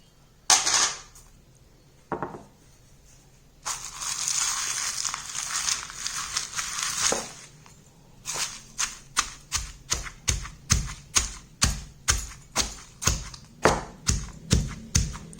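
Unpeeled garlic, chilli and salt pounded in a small stone mortar: a few scattered thuds and a stretch of grinding, then a steady run of sharp, evenly spaced knocks, close and loud.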